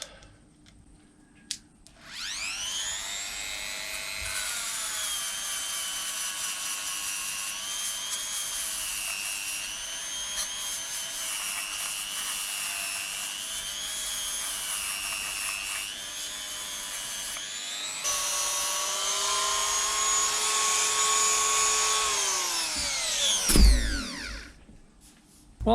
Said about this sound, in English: give it a once over with this nylon brush